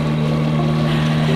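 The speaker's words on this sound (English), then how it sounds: "when the dinghy engine isn't drowning me out" A dinghy outboard engine runs close and loud, giving a steady, unbroken motor drone with a strong low hum over the splash of water.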